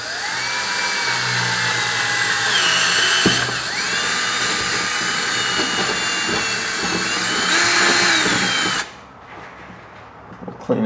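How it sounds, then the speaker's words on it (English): A power drill with a 1/2 inch bit bores a hole in an EZGO TXT golf cart, a steady loud whine running for about nine seconds with slight pitch shifts, then stopping abruptly. "we'll take a safety glasses and a 1/2 inch drill bit, and we'll locate that mark that we made, and we'll drill this hole out"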